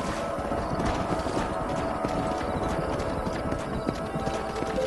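Steady clip-clop of several horses' hooves in Red Dead Redemption, continuous and fairly loud, with a faint whinny and light mechanical rattling in the background.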